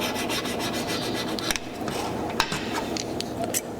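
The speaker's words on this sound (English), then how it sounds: "keep scraping until nothing's coming off" Repeated rasping strokes scrape old glue off a rear view mirror, a close, gritty back-and-forth scratching that grows sparser, punctuated by a few sharp ticks and no clear talking.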